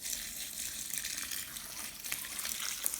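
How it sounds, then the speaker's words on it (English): Water poured onto wax cappings and honeycomb, making a continuous splashing gush with small crackling bursts throughout, fairly quiet and with no speech. "I'm going to pour this water"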